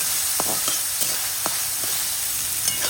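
Onions fry in oil in a pan with a steady, close sizzle, broken by a few sharp clicks and scrapes of stirring. The okra has not gone in yet.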